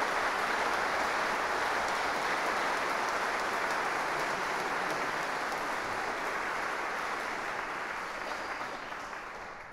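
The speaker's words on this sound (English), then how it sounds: "So ladies and gentlemen, please give another rousing applause for Johannes Fritzsch" Sustained audience applause at a classical singing competition finals concert with an opera and ballet orchestra, a dense even clapping wash from a large crowd that holds steady for nearly ten seconds and tapers slightly at the end.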